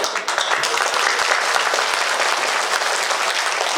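Audience clapping at a Banjara community devotional gathering for Sant Ishwar Singh Bapu's birth anniversary and Mahashivratri, a dense, steady burst of applause from a crowd lasting throughout, loud and close.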